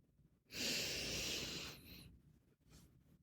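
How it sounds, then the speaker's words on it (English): One deep breath is drawn in and let out as a long, loud, airy rush lasting over a second. A fainter, shorter exhale follows, close up in a quiet room. "So take a deep breath in."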